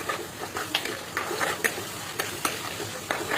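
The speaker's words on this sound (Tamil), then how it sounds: "தக்காளி பழம் நல்லா வதங்கி வந்துட்டு பாருங்கள்" Tomatoes sautéing in oil in a pan while being stirred, a soft sizzle under repeated scraping strokes of a spoon at a steady, moderate pace.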